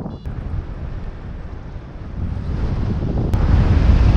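South wind buffeting the microphone during a paragliding flight low over trees, a continuous broadband rush that swells louder toward the end, with no talking.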